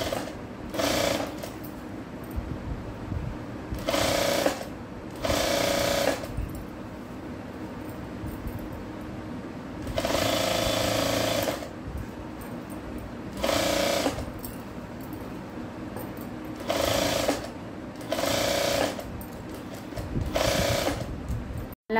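A sewing machine stitching blouse shoulders runs in repeated short bursts of rapid mechanical whirring, each lasting one to two seconds, with quiet gaps between them and no talk.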